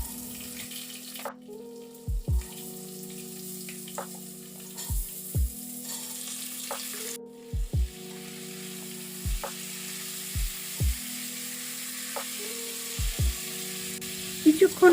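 Potatoes frying in oil with mustard seeds, green chillies and curry leaves, a low steady sizzle punctuated by repeated clunks and scrapes of stirring at irregular intervals, close and moderately loud.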